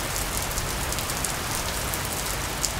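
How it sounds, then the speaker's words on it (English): Steady rain falling after several days of wet weather, a dense even hiss with faint scattered drop ticks, alone with no voices. "So it's been raining for several days now."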